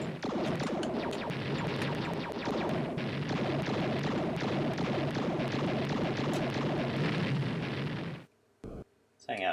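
Loud, continuous explosion effects and crashing blasts fill a Macintosh space shooter, Space Madness, as an enemy base is destroyed, then drop abruptly to near silence with a couple of brief bursts at the end.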